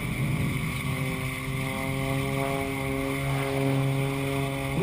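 A propeller airplane flying aerobatic manoeuvres gives a sustained engine drone with a strong tonal hum whose pitch shifts gently as it rolls and climbs. The sound is steady and fairly loud throughout, and no one speaks.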